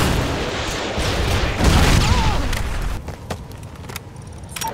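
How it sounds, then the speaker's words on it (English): A Predator missile strike in Call of Duty, a loud roaring rumble that swells into a heavy blast around the middle and then fades, followed by scattered sharp gunfire cracks. "Friendly Predator Missile inbound"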